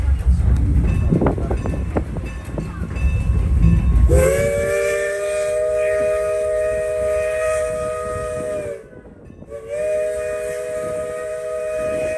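A Strasburg Railroad steam train on the Long John Limited run rumbles loudly past, then its chime whistle sounds in two long sustained blasts with a short break between them, over continuing track noise.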